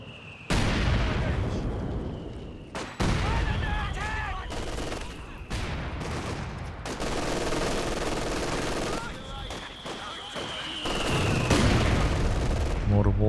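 Mortar blasts and machine-gun bursts rattle continuously through a Company of Heroes 2 battle, dense gunfire with heavy booms over low background noise, and a voice speaks over the combat.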